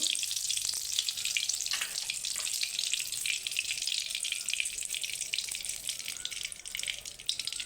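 Oil heated in a pan for frying fish heads crackles and hisses in a dense, continuous close sizzle, with no talking.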